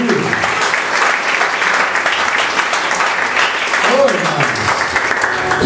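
A church congregation claps loudly and continuously during a sermon, dense applause filling the space with cheering voices mixed in.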